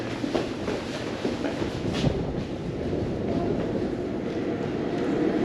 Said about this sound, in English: a train is coming